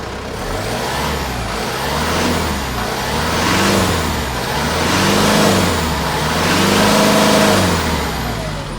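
A 2005 Mitsubishi Fuso Canter cab-and-chassis truck with a 4.9-litre 4M50 diesel engine runs close by, rising and falling through three loud revs over a rough, clattering idle.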